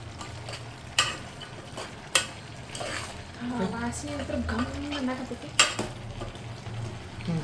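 Rice stirred and mixed with kebab and biryani masala in a pot, giving a steady scraping and sizzling with a few sharp clinks of the utensil against the pan, as a voice talks partway through.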